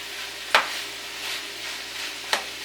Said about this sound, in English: I'm adding my chopped up cabbage to the pan